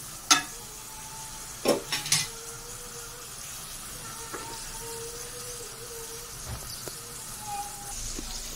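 A taro mixture cooks in a pan with a soft background sizzle, while a few sharp clanks of a spoon or lid come early and a quieter scrape follows later.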